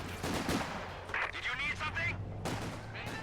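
Bursts of LMG 42 machine-gun fire from a WWII real-time strategy game match, crackling in quick clusters amid other battle noise while a commentator talks over it.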